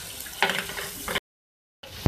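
Onions frying in a pan with cumin give a soft close sizzle with a few stirring scrapes, broken by a short silent gap before a sharp clack.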